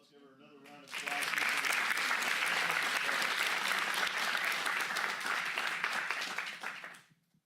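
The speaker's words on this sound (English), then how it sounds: "Let's give her another round of applause." Audience applause at a Sutter County Board of Supervisors regular session, dense steady clapping from a roomful of people swelling after a brief voice and lasting several seconds before fading out.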